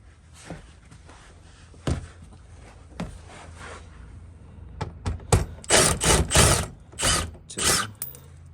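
Ratchet work removing 7 millimeter bolts during a Hellcat oil and filter change, sparse metallic clicks at first, then louder rapid ratcheting bursts close by.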